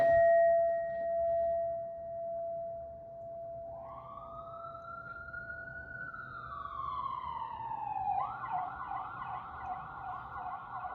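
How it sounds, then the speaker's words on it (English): An ambulance siren rises in the distance and wails steadily, growing louder and nearer as it continues to the end. "You hear that, ambulance?"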